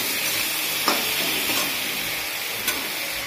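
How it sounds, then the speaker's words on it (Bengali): Food sizzles steadily in a pan while being stirred, a continuous close frying hiss with a couple of brief scraping clinks from the utensil. "এখন একটু ভাজবো কিন্তু এতে"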